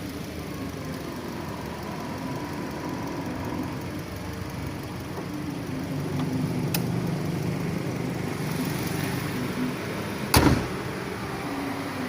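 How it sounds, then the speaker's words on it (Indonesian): The hood of a 2013 Suzuki Ertiga GX comes down with a single sharp slam near the end, following a stretch of low, quiet engine idle with a faint click or two before it. "Oke, kita tutup dulu kap mesinnya."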